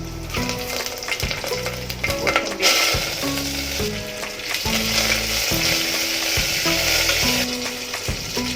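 Whole spices, bay leaf, slit green chilli, cumin, mustard seeds and cashews crackle in plenty of hot oil for Maharashtrian masale bhat, a loud continuous sizzle with rhythmic stirring scrapes throughout.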